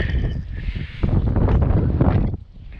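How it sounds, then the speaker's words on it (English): Steady, rumbling wind gusts buffet the microphone outdoors on a Connecticut beach, with a broadband roar that swells and drops near the end. "it's windy"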